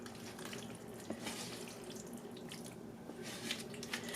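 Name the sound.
pouring canned ingredients on top of a casserole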